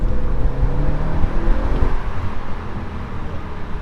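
An Audi RS4 estate with a V8 engine pulls hard, a dense low rumble that holds loud and steady before easing off toward the end, with road noise around it and no distinct voices.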